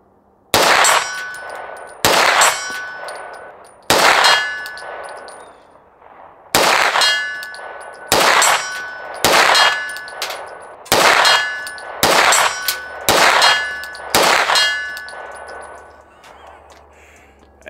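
DS1911 pistol fires Hornady rounds at steel targets 100 yards away. About a dozen sharp shots ring out with uneven spacing, each followed by a bright metallic clang and ring, loud and near.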